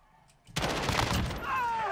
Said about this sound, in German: Schüsse auf mich aus dem Gebirge rechts